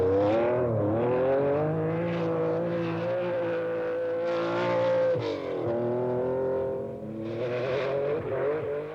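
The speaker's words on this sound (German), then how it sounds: "Aber auch hier Vic Preston auf seinem Porsche bei der Aufholjagd." A Porsche rally car engine from the 1978 East African Safari Rally drones steadily through the whole stretch. Its pitch rises and falls as the car revs and shifts on muddy, slippery tracks, loud and close, with no voices.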